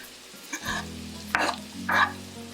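Garlic sizzling in a hot pan while canned tuna sisig is cooked, a steady frying hiss with a couple of louder bursts as the pan is stirred, close up and with no talking.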